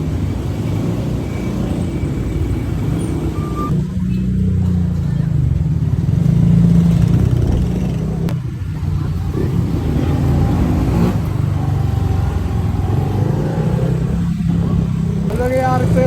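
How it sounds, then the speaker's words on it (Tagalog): Street traffic in Taguig City, with cars and motorcycles passing under a constant engine rumble, a swell of louder passing vehicles midway, and people talking nearby at times. "Traffic nga pala dito guys, ngayon sa Taguigao City."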